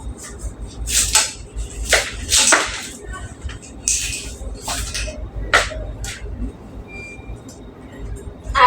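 Cauliflower being cut up in a home kitchen with a knife, giving several sharp cracking snaps and crisp chopping hits spaced irregularly over a low background hum, close and fairly loud.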